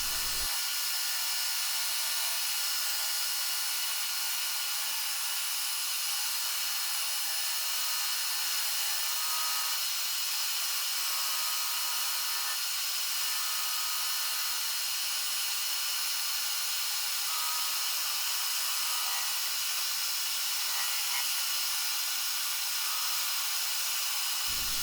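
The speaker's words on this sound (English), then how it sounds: "Then with the bulk of the waste off, I'll get it to the disc sander." A disc sander with an 80-grit disc shapes a wooden template for an ES-335 guitar build, giving a steady, unbroken loud whirring hiss from start to finish.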